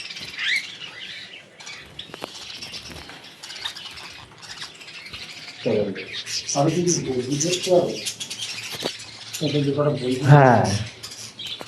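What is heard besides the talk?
budgies chirping and squawking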